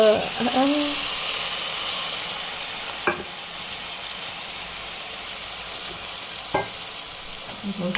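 Tamarind juice goes into a pan of frying bitter gourd curry, raising a loud, steady sizzle and hiss that runs throughout, broken by a couple of sharp clinks of a utensil against the pan.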